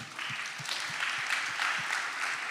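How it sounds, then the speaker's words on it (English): Applause from a seminar audience on personal money planning, an even, steady wash of clapping that holds for a couple of seconds, with a soft, periodic low thump underneath. "give yourselves a warm round of applause"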